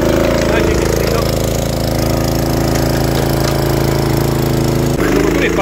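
A rented 15-horsepower rotavator tills damp ground with a loud, constant engine drone and churning rumble, close by and unbroken, with a brief shift in tone near the end.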